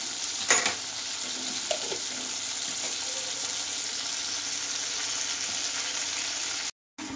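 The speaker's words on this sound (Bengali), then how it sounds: "টমেটোটাকে আমি ভালোভাবে ভাজবো।" Tomato fries in a pan with a steady, close hiss of sizzling oil, a few clatters of stirring near the start and a brief dropout near the end.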